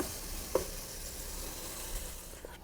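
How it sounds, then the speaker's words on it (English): Soft, steady sizzling of grated pumpkin frying in ghee, with a couple of faint stirring clicks. "use the same ghee for frying the pumpkins."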